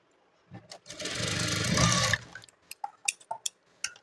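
A sewing machine stitches a blouse in a close burst of rapid whirring lasting about a second and a half, followed by scattered clicks and taps of fabric handling.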